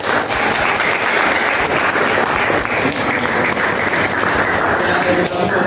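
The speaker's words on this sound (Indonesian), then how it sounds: "Yuk, kita berikan aplaus kepada teman-teman." An audience applauds steadily and loudly at a school discussion session, with dense, continuous clapping that fills the room.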